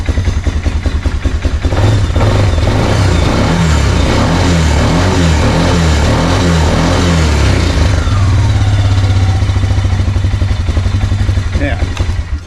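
A quad bike engine runs continuously up close, a rough low drone with some clattering and slight changes in revs, loud and unbroken for the whole stretch.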